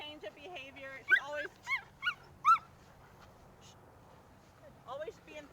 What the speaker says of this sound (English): So in this case, I'm correcting the barking.